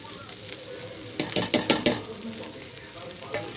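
Cooked rice with carrots and egg being stirred and fried in a pan, with a steady sizzle under a quick burst of scraping spatula strokes in the middle, then quieter frying.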